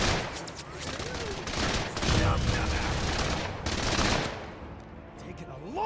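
Bursts of gunfire rattle in the MENACE tactical video game, rapid fusillades and machine-gun volleys at moderate distance, rising and falling in waves, with brief voice chatter over them.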